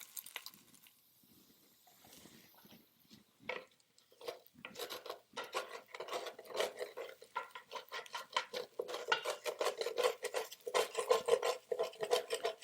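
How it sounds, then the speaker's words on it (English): Cooked rice being moved into a pan of vegetables and stirred, giving repeated close scraping and rasping strokes that start sparse and become dense and steady, with no talking. "we're going to transfer the rice over to the pan of vegetables that we cooked earlier"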